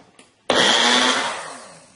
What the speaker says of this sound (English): Why did you buy a Magic Bullet? It's just a small blender.